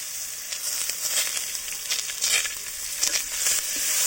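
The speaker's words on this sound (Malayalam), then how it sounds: "ഈ അരപ്പിൻ്റെ പച്ചമണം മാറുന്ന വരെ നല്ലോണം ഒന്ന് ഇളക്കി കൊടുക്കുക" Ground masala paste fries in a pan for a chilli chicken dish as it is stirred. A soft continuous hiss and sizzle carries faint scraping strokes, fairly quiet throughout.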